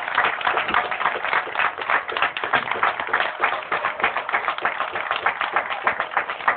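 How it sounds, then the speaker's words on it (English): An outdoor audience at a family day in a park gives a guest a sustained, dense round of applause, steady and fairly loud throughout with no talk. "A big round of applause for Mr."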